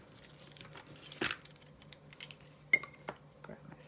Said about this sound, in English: And I'm going to snip that off.